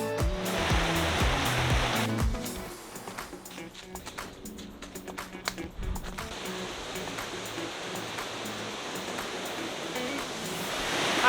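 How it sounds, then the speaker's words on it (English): A waterfall plunging into a pool in Hawaii's Kalalau Valley gives a steady, broad roar of rushing water, close and continuous, dipping slightly in the middle before building again, with no talking. "we finally made it to the waterfall with a beautiful pool"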